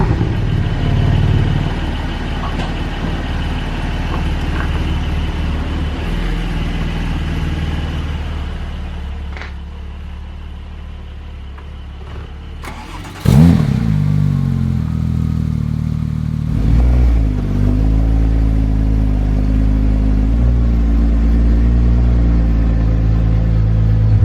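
A car engine hums steadily on the road, then abruptly swells louder and rougher midway and keeps a deeper, stronger drone with occasional clatter through the rest.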